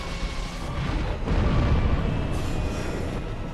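A deep, rumbling explosion from the Demon Firesage boss fight in Dark Souls swells to a heavy boom in the middle and rolls on as a dense, low roar throughout.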